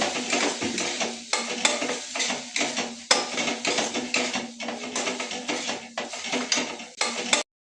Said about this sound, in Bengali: এরপরে মশলাটাকে ভালো করে কষিয়ে নেব।